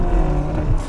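A 2018 Ferrari GTC4Lusso T pulls away from traffic lights, its engine note loud and close with a rising, throaty roar, no speech.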